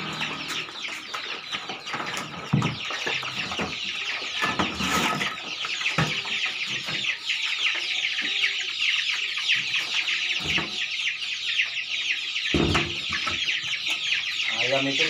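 Many chickens cluck and chatter continuously in a dense flock, with occasional sharper squawks and knocks nearby, fairly loud and busy throughout.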